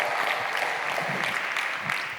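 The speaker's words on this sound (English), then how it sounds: "So give yourself a round of applause" A conference crowd at a blockchain and Bitcoin event breaks into a round of applause, a steady wash of many hands clapping at moderate volume throughout, with no voices over it.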